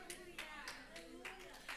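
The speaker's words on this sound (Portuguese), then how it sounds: "Pode aplaudir ao Senhor." Church congregation applauding during a women's conference sermon, quiet, steady scattered clapping with sustained voices or singing over it, fairly faint throughout.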